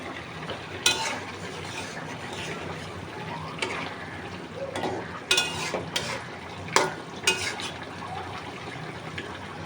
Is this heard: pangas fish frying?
yes